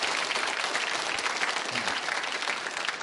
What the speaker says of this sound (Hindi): तालियां बजाइए आप सभी के लिए एक बार जोरदार तरीके से।